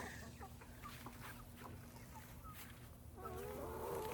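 Backyard chickens clucking in a garden, scattered soft clucks over a steady low hum, with louder busier calls near the end.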